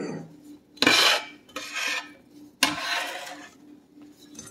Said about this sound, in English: We're going to mix this up.